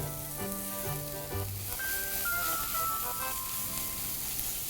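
Spinach stir-frying with garlic and black pepper in a pan, an even hissing sizzle running beneath melodic background music.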